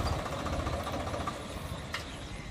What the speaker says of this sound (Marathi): आज आपल्याकडे ट्रॅक्टर आलेला आहे स्वराज